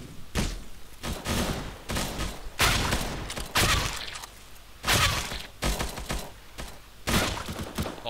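Gunfire in the Roblox game Counter Blox, repeated loud bursts of automatic shots in clusters separated by short pauses, close and dominant throughout.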